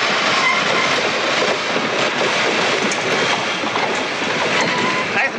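A train rumbles steadily along the tracks, loud and close, with a continuous roar and faint rhythmic clatter throughout.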